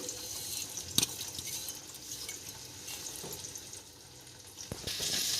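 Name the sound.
ground spice mixture frying in roasted mustard seeds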